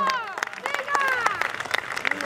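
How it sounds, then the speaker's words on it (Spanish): A crowd of spectators claps along the course of the 22nd Zaragoza half marathon in 2019, scattered brisk applause under loud cheering voices and whistles. "pase el siguiente corredor le damos un aplauso fuerte"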